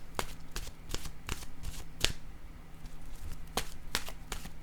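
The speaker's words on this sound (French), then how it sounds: "Je vais maintenant piger une carte de mon oracle de l'âme intuitive" Oracle cards are shuffled and drawn by hand, a steady run of crisp papery riffles and flicks with sharp snaps at intervals, close and fairly quiet over a low steady hum, with no talking.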